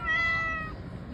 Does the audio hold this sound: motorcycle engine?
no